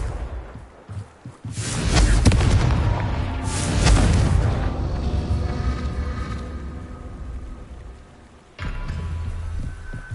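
Confringo fire spells blast in Hogwarts Legacy combat, two deep booming explosions swelling and rumbling out over several seconds, then a fresh low impact near the end.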